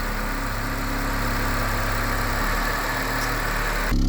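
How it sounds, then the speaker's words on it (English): A 2019 Honda Civic engine idling at the exhaust, a steady, smooth low hum with even vibration, close and continuous throughout. "a shot of the exhaust of the motor running"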